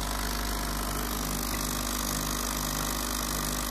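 Sunbeam EM6910 espresso machine pump running with its covers removed, a steady loud mechanical hum and drone heard close up, unbroken throughout, no voices.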